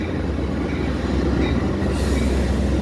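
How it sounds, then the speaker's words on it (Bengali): A double-decker local train pulling into Prospect Heights station and coming to a stop, loud continuous rumble with wheel squeal and clatter, close by, with a sharp hiss of brakes or air near the end. "এই যে ট্রেনটি প্রসপেক্ট হাইটস রেলওয়ে স্টেশনে এসে থামলো"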